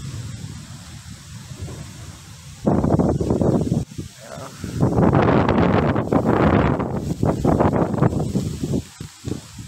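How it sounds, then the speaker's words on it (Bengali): Gusty wind before a rainstorm buffets the microphone in strong, roaring surges, swelling and dropping in loud waves over several seconds. "একটু পর পর ঝাপটা বাতাস আসতেছে।"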